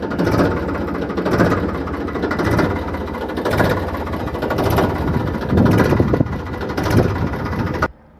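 A tractor engine left running, a loud, steady diesel rumble with rhythmic pulsing, close by and continuous for about eight seconds before cutting off.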